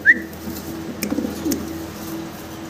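Pet pigeons give soft, low cooing calls, a few gentle murmurs near and faint after a brief high chirp at the start.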